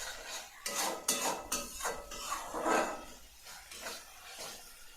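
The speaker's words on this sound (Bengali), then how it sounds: "দেখুন আমি এইভাবে মশলাটা কষিয়ে নেব।" Spice paste being stirred and fried in a pan for a home-style Bengali katla kalia fish curry, with repeated loud metallic scrapes and clanks of a utensil against the pan over a soft sizzle, close up and without talk.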